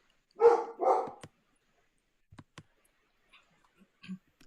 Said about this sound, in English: my dog is raising hell